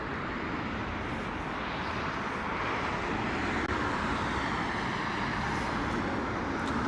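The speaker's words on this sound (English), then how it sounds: "Here we go, Delta Airlines 767-400 coming in from Atlanta this morning. Nice and loud from the 767." A Delta Airlines Boeing 767-400 landing at London Heathrow, arriving from Atlanta, gives a steady, loud broadband engine roar that holds level and swells slightly near the end, with no talk over it.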